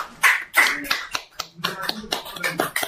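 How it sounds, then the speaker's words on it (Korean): An audience at a church revival gathering claps in a short burst of distinct, sharp, close claps. The claps are uneven and spaced out, and voices briefly mix in among them. "네, 박수 치겠습니다."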